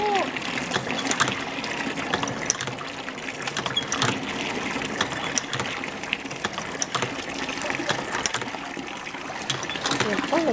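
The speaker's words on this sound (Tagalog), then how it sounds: "Yan po, nagbobomba si Mama." A hand water pump is worked by a woman during laundry, with repeated rhythmic mechanical strokes and running, splashing water close by, and a person speaking intermittently over it.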